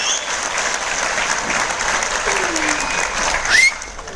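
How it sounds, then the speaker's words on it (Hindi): A large training-event audience in Mumbai breaks into loud, sustained applause after a group chant, dense clapping filling the hall with a brief whistle-like squeal near the end and faint voices underneath. "जोरदार तालियां अपने आप के लिए।"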